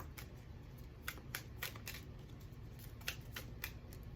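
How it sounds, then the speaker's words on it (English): Tarot cards are shuffled by hand in quiet, quick riffling bursts with soft crisp flicks, close and faint, with no talking. "I feel like I'm supposed to shuffle a little bit more"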